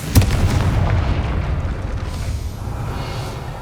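Confringo fire spell blast in Hogwarts Legacy: a deep, rumbling explosion with a sharp onset, followed by a sustained roar that slowly fades over several seconds.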